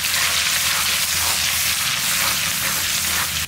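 Chopped ginger and minced garlic frying in hot oil for chicken egg fried rice, giving a loud, steady, close sizzle with dense crackling that runs unbroken throughout, with no talking.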